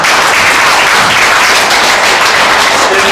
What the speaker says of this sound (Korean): 우리 의원님 큰 박수 한번 해드리고요.